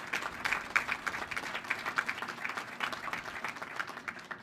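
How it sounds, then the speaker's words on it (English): Applause for NASSCO shipyard workers at a ship christening ceremony, a fairly quiet, rippling round of clapping from a crowd at some distance, with no talking. "So how about a big round of applause for all these NASSCO workers here at this great shipyard."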